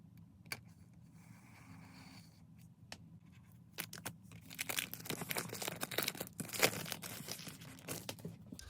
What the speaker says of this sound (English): let's go ahead and cut the seal here off the box and see what we got